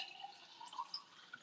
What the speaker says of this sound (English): let me pour this over the sink so there's no mess